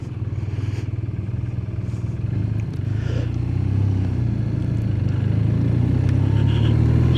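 A 2025 BMW R12 GS motorcycle riding along a road, its engine droning steadily and close with a rhythmic low pulse that grows slightly louder as it pulls, plus wind and road noise.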